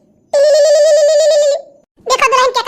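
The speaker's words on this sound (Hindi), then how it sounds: "देखो दुल्हन के का फोन है उठा लियो भैया" A telephone rings in an animated Awadhi comedy: one loud, sustained electronic ring lasting over a second, then a short pause, and a second burst of ringing begins.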